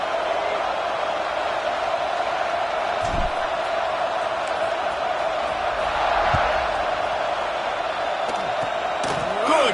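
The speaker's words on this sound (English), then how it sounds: "this crowd is buzzing after that last score" Football stadium crowd buzzing after a score, a steady dense roar of many voices filling the whole stretch at an even loud level, with occasional thumps under it.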